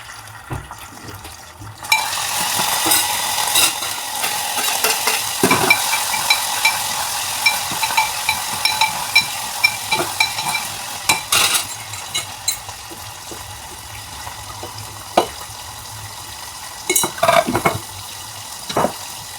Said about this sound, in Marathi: चला पटकन कणी आता आमटी फोडणीला टाकूया पहिल्यांदा